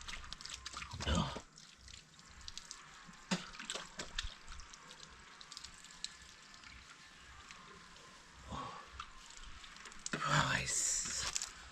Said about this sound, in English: So I'm just washing my hand here.